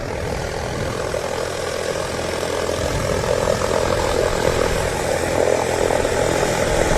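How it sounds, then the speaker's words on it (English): A Piper propeller aircraft starting up nearby at an airport, its engine a steady broadband drone that builds slightly in strength, continuous and fairly loud, with no voices over it. "Piper aircraft started up next to us"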